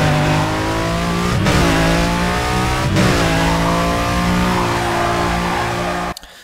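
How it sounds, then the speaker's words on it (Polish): A modified Lamborghini Murcielago in the racing game NFS Carbon roars loudly and steadily, its engine note rising and falling through gear changes with brief tire squeals, ending abruptly. "zobaczmy jak będzie się prowadzić Murcielago po moich przeróbkach"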